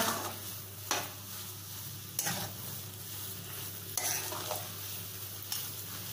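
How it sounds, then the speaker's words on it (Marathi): Pineapple sheera sautéing in a pan, a soft sizzle under sparse scraping strokes of a spatula against the metal, a few distinct stirs spaced a second or two apart, fairly quiet and close. "परतून घेते एकदा"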